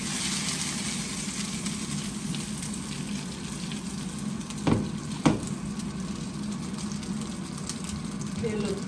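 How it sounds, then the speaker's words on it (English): Alpine sausages sizzle steadily in melted butter in a pan in a Swiss Alps chalet kitchen, a constant close frying hiss with two brief clacks partway through. "The butter is melting. So I'm going to drop my special Alpine sausages."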